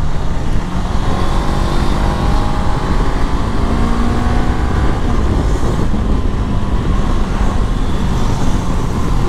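Riding a 2023 Honda CB 500 X on the BR 262 highway brings a constant, loud rush of engine drone and wind roar, steady from start to finish with no speech.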